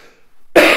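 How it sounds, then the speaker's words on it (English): A single loud cough bursts out abruptly after a moment of near silence, harsh and close. "apologise for the coughing"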